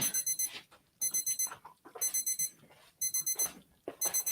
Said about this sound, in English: I probably should have made that shut up first, so you didn't have to listen to that beeping at you